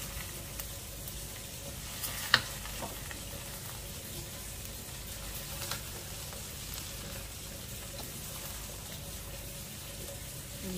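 Food with chicharron sizzles quietly in a wok while being stirred, a low steady frying hiss broken by an occasional sharp clink of the utensil against the pan.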